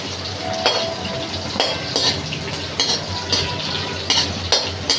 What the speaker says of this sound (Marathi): चांगली खरपूस आता मिरची भाजून घ्यायची,